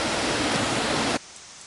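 The Whatcom Falls waterfall roars as a dense, loud wash of falling water that drops abruptly to a much quieter steady rush partway through.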